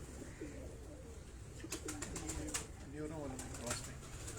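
Urban Teddy pigeons in a Karachi loft give several rolling coos close by, a run of rising and falling calls over a low steady background with a few sharp clicks.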